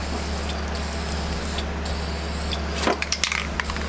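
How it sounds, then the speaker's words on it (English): Clear coat sprayed onto car brake calipers from an aerosol can in a workshop, several short bursts of close hissing over a constant loud hum, followed by a few clicks and taps. "We got the clear coat going on now."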